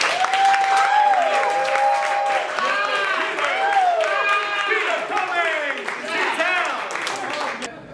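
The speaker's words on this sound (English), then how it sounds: "I want everyone with a really, really strong Miami applause." A Miami event audience claps and cheers loudly, with whoops and raised voices riding over steady applause that fades slightly toward the end.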